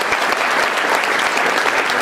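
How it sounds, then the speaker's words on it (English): A church congregation claps loudly and continuously, a dense wash of applause filling a large room. "Now, let's give them a clap of honor."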